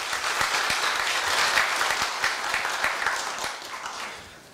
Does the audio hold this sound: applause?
yes